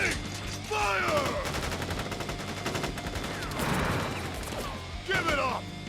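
Soldiers fire a volley of rifle shots in the video game Crisis Core: Final Fantasy VII Reunion, a rapid burst of loud gunfire crackling over game music and voiced dialogue, with a second burst following after a short gap.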